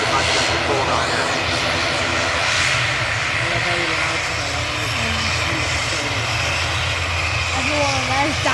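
A Ryanair jet plane at Manchester Airport roars steadily and loudly throughout, a continuous close engine rumble with a voice faintly beneath it.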